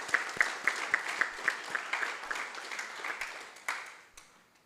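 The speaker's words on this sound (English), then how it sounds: "Let's give him a round of applause." An audience applauding at an official council chairman's address, a fairly loud burst of clapping that keeps a steady pulse before tapering away to quiet.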